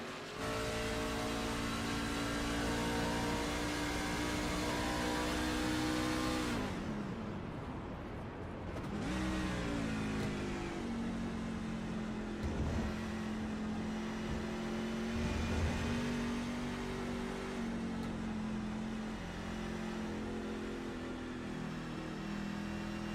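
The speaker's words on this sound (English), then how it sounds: "So you can hear him kind of shut the power off to the engine." A stock truck's engine in the iRacing game at Watkins Glen drones with a steady onboard roar, then the power is cut and the sound briefly falls away before a lower, even hum resumes for the rest of the stretch.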